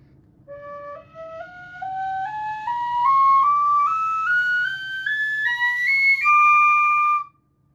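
A wooden tin whistle plays a rising scale, one clear note after another in a steady climb, bright and close, with a soft low hum underneath.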